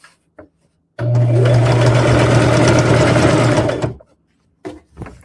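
A sewing machine stitches a rag quilt seam in one steady, loud run of about three seconds, with brief quiet handling noises before and after.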